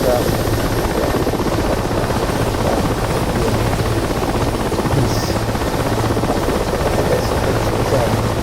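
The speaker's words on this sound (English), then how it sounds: "the massive rotor downwash of this large helicopter" An Mi-8 helicopter's rotor in DCS World drones as a loud, constant whirring thrum with a low steady beat, continuous and close throughout, with no words spoken.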